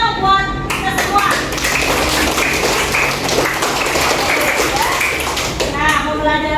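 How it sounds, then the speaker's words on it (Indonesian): A fifth-grade classroom of children claps together in a dense burst of applause, with voices mixed in at the start and end. "Beri tepuk tangan dong buat kita semua."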